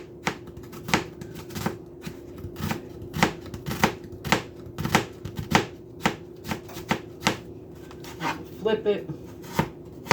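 A chef knife chopping through food on a cutting board, a steady series of sharp, close knocks roughly every half second, with a brief spoken phrase near the end.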